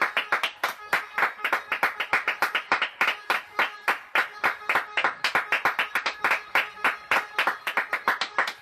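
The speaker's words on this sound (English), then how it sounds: "Yay, people are applauding too!" A crowd applauding steadily, many hands clapping in a dense, continuous patter that swells and dips slightly throughout.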